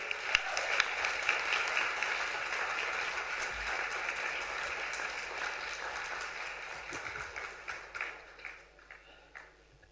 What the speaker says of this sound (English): Ladies and gentlemen, a huge round of applause to Devender Fandvis.